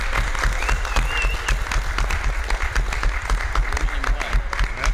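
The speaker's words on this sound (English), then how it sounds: "a huge round of applause to Susan and Tommy Neal" A UFO conference audience gives a round of applause, dense clapping close by at a steady level, with faint voices mixed in underneath.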